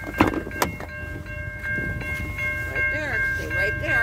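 A freight train rolls past at a road crossing in Riverside near Benton Harbor, Michigan, a steady rumble of wagons with metallic clanks and a high tonal squeal or whistle, as a voice talks briefly nearby.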